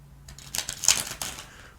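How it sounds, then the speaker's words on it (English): A quick riffle of tarot cards being shuffled, a short burst of rapid papery flutters and taps, close and fairly crisp. "let's do a quick shuffle here"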